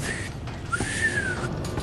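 A character in the video game Hogwarts Legacy whistles one steady, rising-and-falling tone lasting about a second, clear and close over a constant hiss of game ambience.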